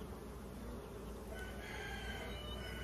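Honeybees buzz on a hive frame, a dense, continuous droning hum held close and steady throughout.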